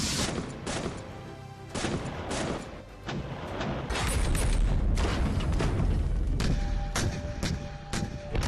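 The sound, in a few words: artillery and gunfire at the border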